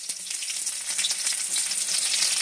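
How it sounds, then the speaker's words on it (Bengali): Onion and capsicum frying in oil in a pan, a dense bright hiss with crackling spatter, loud and close, steady throughout with no talking. "একটুখানি ভালো করে ভেজে নেবো পেঁয়াজটা আর ক্যাপসিকামটা।"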